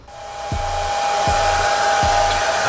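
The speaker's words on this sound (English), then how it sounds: "I'm going to go ahead and get my blow dryer out. I'm going to blow dry them" Handheld blow dryer drying faux edges on faux locs, a loud steady whooshing airflow with a strong whine, running continuously close up with nothing else over it.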